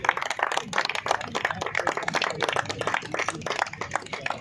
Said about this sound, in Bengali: সকলে জোরে হাততালি।